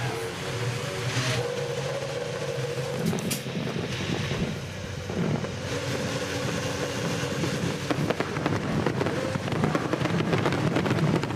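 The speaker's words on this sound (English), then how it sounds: "Fireworks in the background" Fireworks crackle and pop continuously in the distance at the start of the 2009 IndyCar Corn Indy 250 race in Iowa, mixed with rumbling wind noise across the whole stretch.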